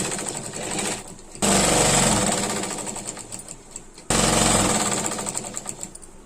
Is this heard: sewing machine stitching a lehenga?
yes